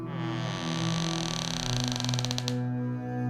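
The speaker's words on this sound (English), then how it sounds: "I was more than usually cautious in opening the door." A slow wooden door creaks open in one long, steady, loud groan that rises into a rapid ratcheting rattle near the end, with no voices.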